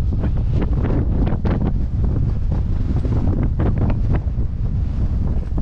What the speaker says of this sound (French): Tant pis pour le vent.